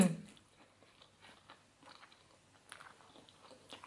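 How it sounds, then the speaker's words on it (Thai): Someone eats a spicy Thai rice noodle salad with fresh shrimp and pork sausage, with soft intermittent chewing and crunching bites heard up close in a quiet room and no talking. "เดี๋ยวเรามากินกันเลยดีกว่านะ"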